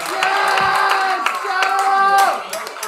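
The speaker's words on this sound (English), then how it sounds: "Keep clapping" Audience clapping and cheering for a poet arriving at an open mic at the New Eurekan, a lively room of hands under a tonal musical backdrop, close and sustained.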